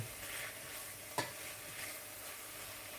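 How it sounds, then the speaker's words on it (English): Tomato being stirred and sweated in a pan for chanterelle mushroom soup: a faint, steady sizzle with a single soft utensil tap partway through. "just give this a mix. You want to sweat the tomato."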